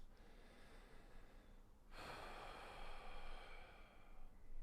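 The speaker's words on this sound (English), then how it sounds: "Just going to take in a few breaths." Slow mindful breathing during a gentle hip-opening yoga session: one long, faint, close breath in that swells into a softer, airy exhale, quiet and alone.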